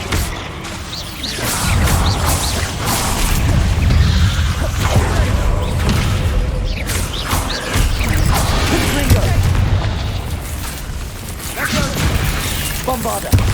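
Bombarda spell explosions in Hogwarts Legacy gameplay bring repeated crashing blasts, whooshes and debris clatter. They form a continuous loud, dense wash of combat noise over about thirteen seconds, with brief shouted voices mixed in.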